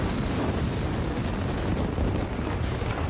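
Controlled demolition blast bringing down the Noida twin towers, rigged with 1,270 kg of explosives and 12,000 detonators; a sustained, loud, dense rumbling roar fills the whole stretch with no pause.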